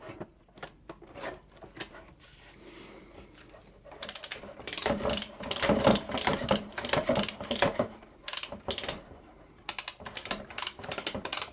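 Stainless steel strapping banding tool ratcheting as the band is tightened, a run of quick mechanical clicks that grows louder and denser after a softer start, close and without talk.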